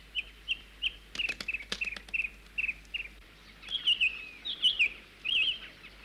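A small cartoon bird chirping, a regular series of short high tweets followed by louder, warbling calls close by, with no talking over them.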